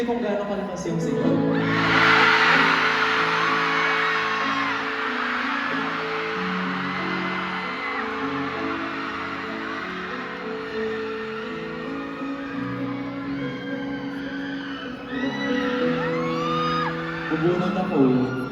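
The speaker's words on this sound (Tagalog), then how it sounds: "Depende kung gaano kalakas yung sigaw." A concert crowd at a live show in Cebu shouts, whoops and screams continuously, loud and dense throughout, with a few higher screams rising near the end.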